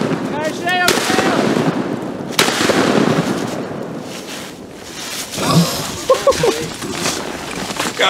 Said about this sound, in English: your gun fired every shot